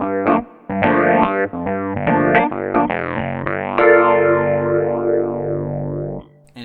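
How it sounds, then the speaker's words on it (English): A Crumar Seven keyboard plays chords and a rising run through heavy effects, with a drive-thick tone, swirling chorus and reverb that rings on after the notes stop. "The reverb is fantastic. The chorus is great. The amp drive is amazing."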